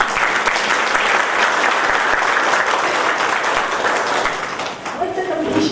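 Loud, sustained applause from a large college audience honoring the principal after the third cycle of NAAC accreditation, a thick, continuous roar of clapping that dips briefly near the end.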